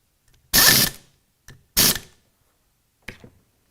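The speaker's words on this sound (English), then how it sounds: "Now we'll install the new friction material using a T25 Torx bit." A power driver with a T25 Torx bit runs in screws holding new friction material on a fan clutch kit, giving two short loud whirring bursts and a couple of brief clicks in between.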